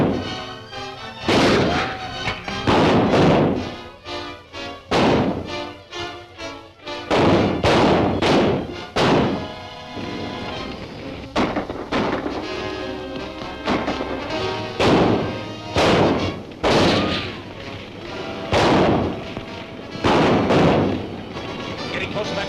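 Gunshots fired to shoot out a light in a 1939 Dick Tracy serial, a series of loud sharp cracks in uneven bursts over rumbling background and excited voices.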